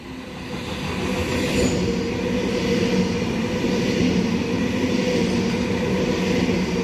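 A Kiama-bound passenger train passes through Heathcote station platform, a sustained loud rolling roar with steady wheel and motor hum that builds in the first second and then holds evenly.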